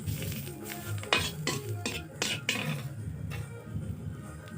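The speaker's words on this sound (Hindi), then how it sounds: "कढ़ाई में जो तेल थी और कढ़ाई में जो हम मिर्च डाले थे, मिर्च तले थे और लहसुन तले थे, उसी में इसको मिक्स करनी है" Greens being stirred in a kadhai with oil, fried chilli and garlic, close metallic scraping and clinking of a spoon against the pan at an irregular rhythm over a faint sizzle.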